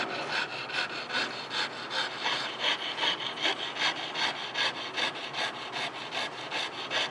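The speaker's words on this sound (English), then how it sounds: "Saw through the center scribe mark." A hand saw cutting through the bridge section of a ring, with steady close back-and-forth rasping strokes in an even rhythm throughout.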